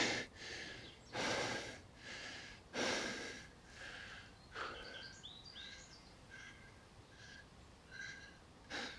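A runner on a cliffside village path takes loud, heavy breaths in repeated bursts, a few seconds apart, while faint birdsong chirps in the background.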